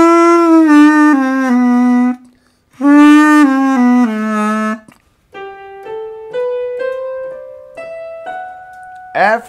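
A homemade plastic saxophone sounds sustained reedy notes, two long held tones with a break between, then a slow ascending series of short single notes, loud and close with no talking.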